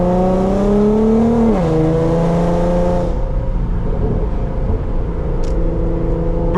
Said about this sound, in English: the car just sound like a fucking V8